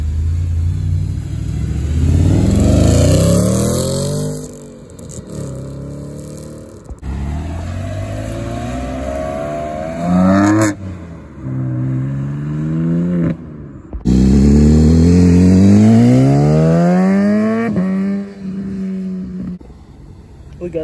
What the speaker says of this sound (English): Got the Audi rolling out.